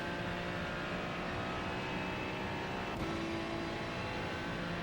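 A Ferrari 296 GT3 race car drives around Silverstone in iRacing, its engine holding a steady, tonal drone with a slight rise in pitch while under power. No other sounds intrude.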